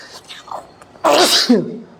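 A single loud sneeze from a man with a cold bursts out after a few soft breathy sounds, close to the listener.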